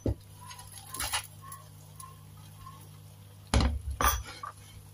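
A lid set onto a pan of scrambled eggs with malunggay cooking over low heat: a sharp metallic clack at the start, light taps, then a louder lid clatter and rattle near the end.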